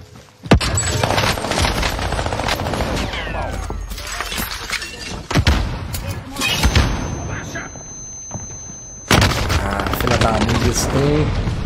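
Warzone gunfire in bursts of rapid automatic shots and sharp single cracks, loud and close, broken by short pauses, with someone talking over parts of it.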